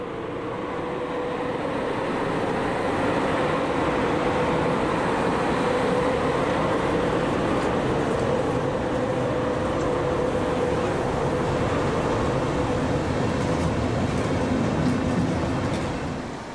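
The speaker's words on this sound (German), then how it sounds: "Nach nur kurzer Wendezeit ist der nächste Zug nach Reutte auf dem Weg" A train on the Außerfernbahn line departs toward Reutte, a steady, continuous rolling rumble of wheels and motor that holds at an even level for the whole stretch, with no voices.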